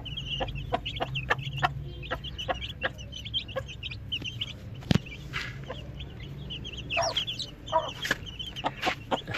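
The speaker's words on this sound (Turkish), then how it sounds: "Görmüş olduğunuz civcivler bir haftalık." One-week-old Indian breed chicks (Hint civciv) peeping in a rapid, irregular chorus of high chirps, close by, with occasional soft clucks and handling knocks beneath.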